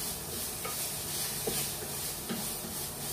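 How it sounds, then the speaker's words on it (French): Shallots stirred into a one-pot pasta pan, giving a steady soft sizzle with scraping and rubbing strokes, close and continuous with no talk. "tu vas rajouter les échalotes à l'intérieur. Voilà. Ça sent bon. On va tout bien mélanger."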